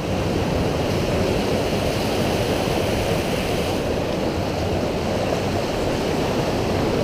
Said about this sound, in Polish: Tam jakiś wodospad.